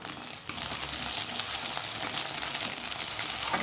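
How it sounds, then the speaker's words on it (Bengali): An egg frying in a little oil in a wok, a dense steady sizzle and crackle that jumps louder after a quieter opening half-second and holds close and even. "কড়াইতে একটু তেল দিয়ে একটা ডিম ভালো করে ভেজে নিচ্ছি"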